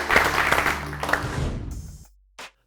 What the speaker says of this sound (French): Merci d'accueillir et d'applaudir François Bord, brasserie Les Haras à Strasbourg.